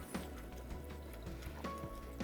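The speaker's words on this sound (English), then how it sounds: "It's boiling." A pot of vegetarian laksa broth with coconut milk is boiling, giving off soft, scattered bubbling pops and gentle simmering close by, fairly quiet overall.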